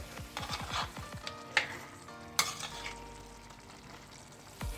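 Chicken sizzles and fries in a chatti pot as it is stirred, with quick scraping strokes near the start and a couple of sharp clinks over a steady frying hiss, close and fairly soft.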